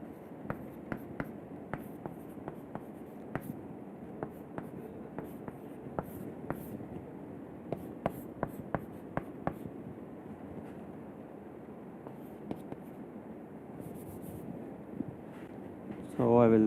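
Marker or chalk taps and squeaks on a board during a lecture, with scattered sharp strokes and clicks over a steady room hum and a quiet background voice.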